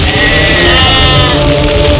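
A male goat bleats in a long, quavering, continuous cry that lasts about two seconds, loud and close, with nothing else heard.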